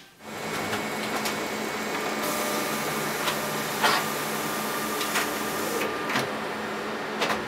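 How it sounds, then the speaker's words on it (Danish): An office printer runs steadily through a newspaper page, a continuous whirring mechanical drone with a few brief clicks and feed rattles along the way, close by and alone. "Så gemmer vi, og så printer jeg det ud."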